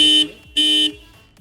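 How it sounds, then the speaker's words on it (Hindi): A Tata Nexon XZ+ HS Dark Edition's horn, set off by pressing the remote key's lock and unlock buttons together, gives two loud, sustained electronic blasts, each about a quarter second, separated by a short pause, close by with no talking. "ये गाड़ी का हॉर्न जो है ये बजने लग जाएगा"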